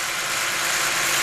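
BMW E46 M3 engine idling with a dead ignition coil unplugged, a steady, close, broadband idle with an even hiss-like texture and no talk over it.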